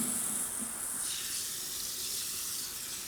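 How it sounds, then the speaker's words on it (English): Cold water pours steadily from a tap into a bowl of spicy mustard mix, a close, continuous broadband rush that stays even throughout with no talk. "we're going to add a whole bunch of cold water"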